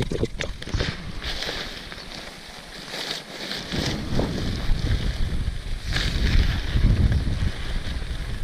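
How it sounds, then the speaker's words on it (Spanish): Strong wind buffets the microphone while riding a Royal Enfield Himalayan motorcycle, a loud, gusty roar that swells and fades with the riding, with no speech over it. "Qué divertido es el viento."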